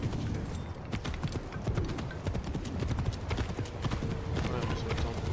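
Horse hooves clip-clop in a steady, quick rhythm in a video game, close and continuous, while people talk over them.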